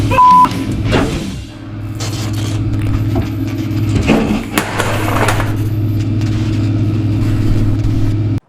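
A 2007 C6 Corvette V8 holds a steady, loud idle with a low rumble, and engine revs swell briefly around the middle of the clip before it settles back to a constant drone.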